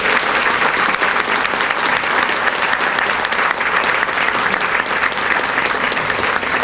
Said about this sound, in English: Please give my leadership a round of applause.